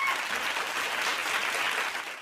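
Audience applause at a Hindi comedy poetry show, dense steady clapping from a crowd throughout, loud and continuous with no speech over it.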